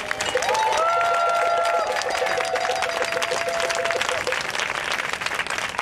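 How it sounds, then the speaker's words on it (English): Outdoor crowd at a rally against mining on Anishinaabe territory breaks into loud continuous applause, with several whistles rising over the clapping early on before it carries on evenly. "We have another big round of applause."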